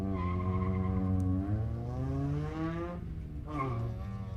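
A Mazda MX-5 Miata on an autocross course gives a sustained engine note with a tire squeal, pitch rising then dropping as it lifts, then climbing again, loud and continuous.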